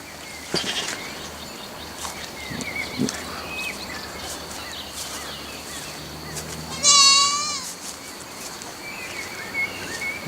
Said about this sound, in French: on va aller voir les chèvres